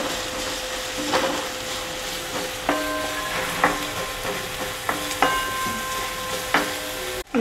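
Garlic and onion sauté in a pan for a tomato salsa, a steady close sizzle with scattered clinks and scrapes of stirring throughout.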